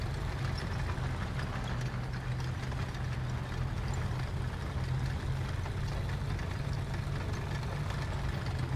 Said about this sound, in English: I knew I could hear his engine that whole entire time